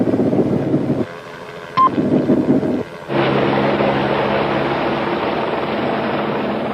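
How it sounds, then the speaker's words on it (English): A police helicopter flies overhead while tracking a suspect, its loud, steady rotor and engine roar filling the scene, with a short tonal beep and a brief lull before the drone returns stronger. "the helicopter has no problem in tracking him"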